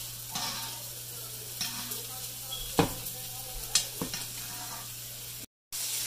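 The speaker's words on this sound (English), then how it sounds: "Got the steak seasoned and cooking." Seasoned steak sizzles in a pan with butter, a moderate steady fry broken by several sharp utensil scrapes and taps, with a low hum underneath and a short dropout near the end.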